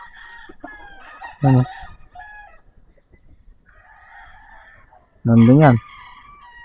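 Imported Harold Brown line gamefowl broodcocks in a breeding pen give two loud, close crows several seconds apart, with softer clucking and someone speaking quietly between them.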